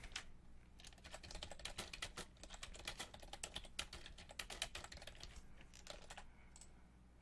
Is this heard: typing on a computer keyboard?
yes